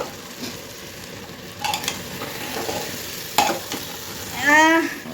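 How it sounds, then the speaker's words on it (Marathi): Rice for a soybean veg biryani is mixed in a pot, with soft scraping and stirring strokes and a few sharper clinks over a low background, ending in a brief tonal squeak. No voices are heard. "आता मिक्स करा अगोदर तांदूळ मिक्स करा पूर्ण"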